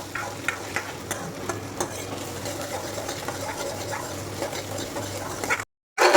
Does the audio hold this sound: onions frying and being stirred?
yes